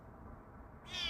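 A cat gives a single short meow near the end after a moment of quiet room noise, close and fairly soft.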